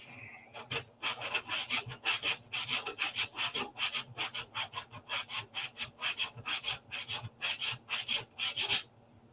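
Hand sanding on a P-47 model airplane, about two dozen quick rasping strokes in a steady back-and-forth rhythm, close and fairly quiet, with no voices.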